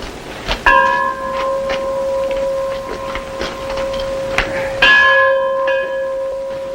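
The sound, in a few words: mission church bell ringing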